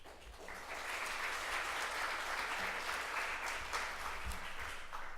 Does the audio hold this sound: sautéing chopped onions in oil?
no